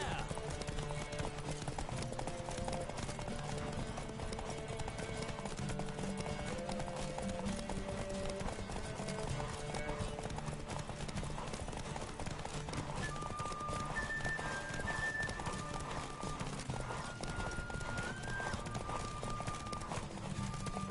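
Steady clip-clop of galloping hooves runs throughout, with an occasional whinny, layered over continuous game music and ambient noise in The Witcher III: Wild Hunt.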